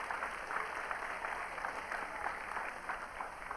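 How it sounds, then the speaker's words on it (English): Steady audience applause for volunteers coming up on stage at a live math performance, a dense, continuous clatter of many hands without a break. "One more round of applause for our brave volunteers."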